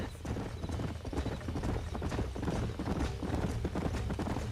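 Horse hooves clip-clop in the video game Red Dead Redemption, a steady rapid trotting rhythm close by, carried over a low rumbling backdrop without speech.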